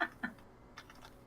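A computer keyboard clicks a few scattered times, close to the microphone and soft, with small gaps of room hiss between the keystrokes.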